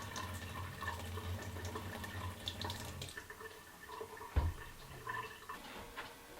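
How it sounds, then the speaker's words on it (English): Gravity-fed water running from a faucet into a sink in an off-grid home without pumps, a soft continuous trickle and splash that stops abruptly, then scattered drips. "it comes out of the faucet here at the sink"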